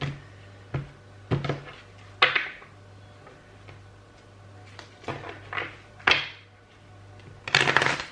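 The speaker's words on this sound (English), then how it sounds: "So let me just do a little shuffle here." Several bursts of tarot cards being riffled and shuffled, close by, separated by short pauses, with a faint low hum underneath.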